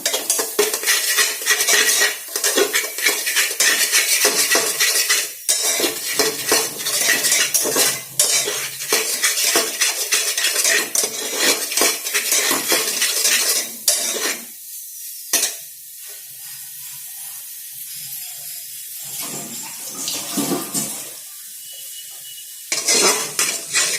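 Mutton is sautéed in oil and spices in a pan over a medium-high flame, with loud, repeated metal spatula scrapes and clanks over a constant sizzle, then quieter sizzling between stirring bursts.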